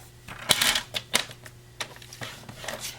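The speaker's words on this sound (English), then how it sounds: "So we're going to push that through and score it at the 6 3/4." Paper pushed through and scored with a bone folder on a paper-scoring board for die-cut layering; a few short dry scraping strokes close up, separated by brief pauses.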